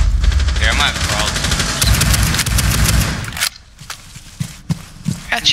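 Rapid bursts of gunfire in the Rainbow Six Siege game crackle loudly and close for several seconds, then give way to sparser individual shots and footsteps, with a voice speaking briefly.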